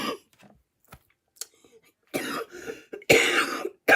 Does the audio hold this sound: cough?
yes